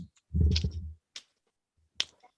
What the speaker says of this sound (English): I used to not be able to snap my fingers. Now I can for some reason.